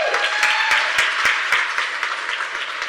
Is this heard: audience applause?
yes